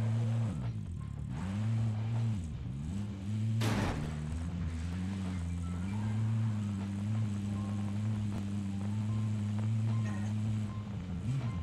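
Vehicle driving in Call of Duty Warzone, with a steady engine drone whose pitch rises and falls as it accelerates, plus a brief sharp burst partway through.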